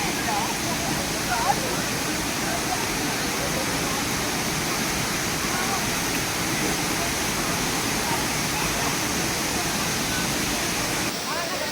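Lakkam Waterfalls near Munnar roars in a dense, constant rush of falling water that fills the whole scene at steady loudness from start to finish.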